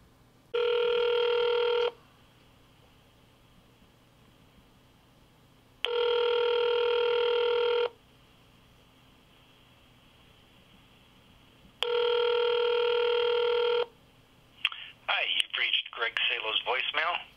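A telephone rings out on a call, three evenly spaced electronic rings about two seconds long with silent gaps between, followed by a voice starting to speak.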